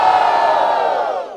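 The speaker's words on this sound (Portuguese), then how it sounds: "Barulho pra quem curtiu as rimas de guerra." A crowd at a rap battle cheers and yells in one loud, dense burst that holds steady, then tapers off near the end.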